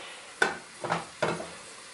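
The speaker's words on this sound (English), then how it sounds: "just a small amount of oil. So you're sauteing it, you're not saturating it in oil" Cabbage sautéing in a pan with just a little oil, heard as three short stirring sizzles about half a second apart, close and moderately quiet, with no talking.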